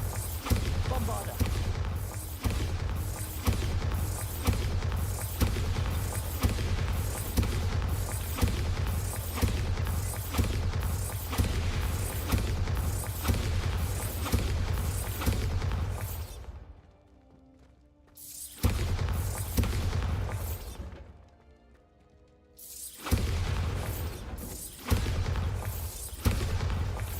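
Repeated Bombarda blasting-spell explosions in Hogwarts Legacy boom out in a steady, loud rhythm of heavy bursts, broken by two short quieter gaps before the barrage resumes.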